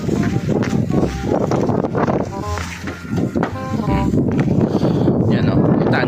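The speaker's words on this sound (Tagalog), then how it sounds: "lakas ng hangin." Strong wind during a blizzard in Canada buffets the microphone in loud, gusty, roaring bursts that persist throughout, with some faint background noises mixed in.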